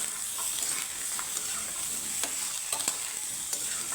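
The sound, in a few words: frying pointed gourd (potol) in oil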